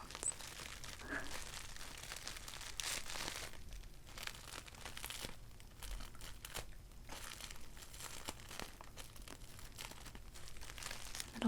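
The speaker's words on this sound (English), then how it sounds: "I always liked to just play with the bubble wrap or the packing peanuts, the paper, just because I like all the little sounds" Bubble wrap, packing peanuts and paper are handled close up for an ASMR unboxing, giving continuous soft crinkling with sharper crunches and rustles in irregular bursts, no talking.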